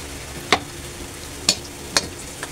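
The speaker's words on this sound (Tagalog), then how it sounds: "Gisa-gisa lang natin yan hanggang mag-brown." Pork fat being sautéed in a pan until brown: a soft, steady sizzle with a few crisp clinks of a utensil stirring against the pan at uneven intervals.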